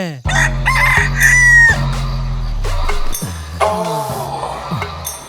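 A rooster crows loudly and close, followed by a few shorter calls and clucks from fowl nearby.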